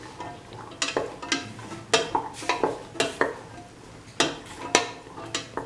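Scrambled egg and cauliflower stir fry being stirred in a pan, a spoon scraping and clinking against the metal in irregular strokes over a faint sizzle, close up with no talking.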